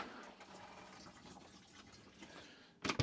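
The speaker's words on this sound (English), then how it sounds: "To flush toilet, press and hold that." A motorhome toilet in a Globecar Summit Prime 600 flushing, a steady low rush of water running for nearly three seconds, then a short, louder clatter of water at the end.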